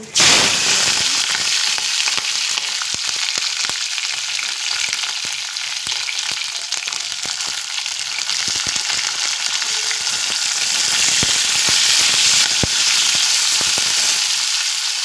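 Cumin and capsicum hit hot oil, setting off a loud, constant hiss of frying with scattered sharp crackles and pops running for the whole stretch, close by.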